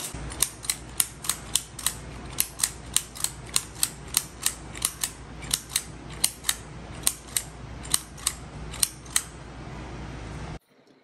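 Rapid series of sharp mechanical clicks from a Penn State Adder clicker adding machine being cleared, about two dozen crisp snaps in an uneven steady rhythm, close and clear over faint room noise, no talking.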